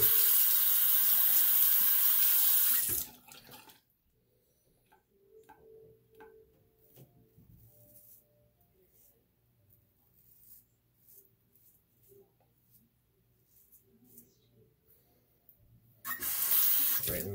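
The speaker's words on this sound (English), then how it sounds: "Right, let me rinse off." Faucet water runs steadily while shaving lather is rinsed off, a loud continuous rush for about three seconds, then a long quiet stretch with faint clinks, before the flow starts again near the end.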